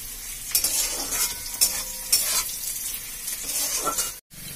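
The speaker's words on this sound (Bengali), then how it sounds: "পেঁয়াজ আর কাঁচা লঙ্কাটাকে আমি ভাজতে বসিয়ে দিয়েছি।" Onions and green chillies frying in mustard oil crackle with a steady, loud sizzle, broken by several sharp bursts as the pan is stirred, and a brief silent gap comes near the end.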